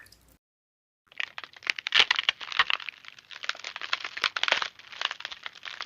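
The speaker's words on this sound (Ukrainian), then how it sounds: "звук потріскування льоду під ногами." Ice crackles and crunches under someone's feet on a winter walk. After a brief silence the dense, close snapping and crinkling runs on without pause.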